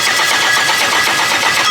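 Honda K-series engine catching and running after cranking, a steady, dense mid-range engine roar with fast rhythmic pulsing, close and loud throughout with no talk.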